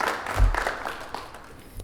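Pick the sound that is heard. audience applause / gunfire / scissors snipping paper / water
audience applause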